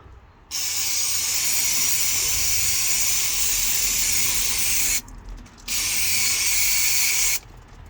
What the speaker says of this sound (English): I'm gonna give the sump a little spray up with brake cleaner